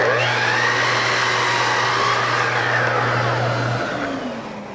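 A powered saw with a laser guide whines loudly and steadily while cutting running molding, holding a constant motor tone before winding down as the blade slows.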